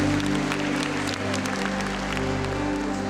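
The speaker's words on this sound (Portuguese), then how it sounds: "Aplauda mais forte" A church congregation applauds during a prayer gathering with a priest, a steady mass of clapping with a low droning hum of sound system or music running beneath it.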